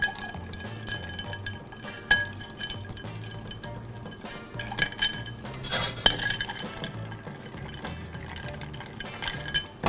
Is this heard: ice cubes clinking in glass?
yes